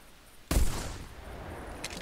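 A single loud, close shotgun blast from the hunting game theHunter Classic, followed by a decaying rumble and a faint later crack.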